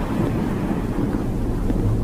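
Rain and thunder in the horror video game Mortal Decay: a dense, steady wash of rainfall over a deep, continuous rumble of thunder, with no voices.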